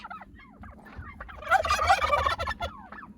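Turkeys gobble in a rapid, warbling burst in the middle, with other birds calling softly around them outdoors.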